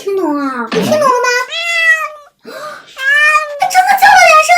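A cat meows in a series of loud, close, drawn-out cries, more than two of them, with short gaps between them and no other sounds.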